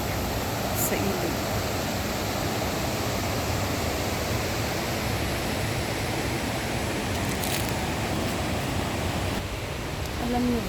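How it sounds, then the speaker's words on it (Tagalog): A strong river rushes steadily in a rural province, a dense, unbroken roar of flowing water that stays close and even throughout. "Lakas pa rin yung tubig sa ilog."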